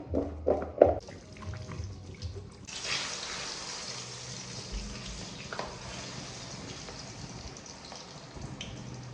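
Plantain being rinsed under running water at a kitchen sink, a steady close splashing stream that starts after a few brief knocks and clatters and runs on evenly.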